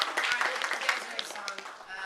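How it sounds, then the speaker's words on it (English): A convention audience at a question-and-answer panel gives a brief round of applause, with dense clapping and voices mixed in. "So let's give these guys a round of applause."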